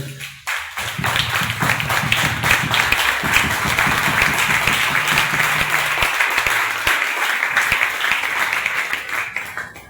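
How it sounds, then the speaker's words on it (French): Church congregation applauding at a service, a dense, sustained round of clapping that fills the room for about nine seconds before tapering off. "Acclame pour la gloire de Dieu."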